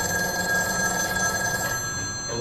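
A telephone rings steadily in a quiet house, its bell tone sounding continuously and fairly close throughout the short moment, with no voices over it.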